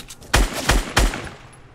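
Three sharp, booming rifle shots from a video game ring out in quick succession, evenly spaced under a second apart, each with a short decaying tail; loud and close with no talking.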